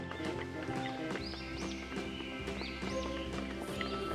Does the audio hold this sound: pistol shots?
no